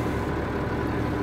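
A farm tractor's engine idles with a steady low, throbbing drone, close and continuous for the whole short stretch, with no talking.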